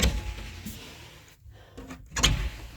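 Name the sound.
closet door being opened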